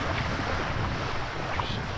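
Wind at around 15 knots rushing over a sailing boat under way, a continuous rough roar of gusts buffeting the microphone mixed with water swish, loud and steady throughout, with no talking.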